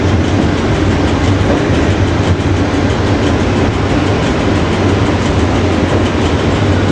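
Electric locomotive running through Malbork, Poland, heard from on board as a loud, continuous rumble of wheels and rail noise that stays steady throughout, with no talking.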